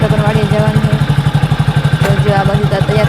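A motorcycle engine runs steadily close by with a fast, even, thumping putter and a clattering mechanical rhythm, loud and continuous, briefly mixed with a faint knock.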